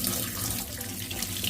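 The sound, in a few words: tap water running while washing an aquarium filter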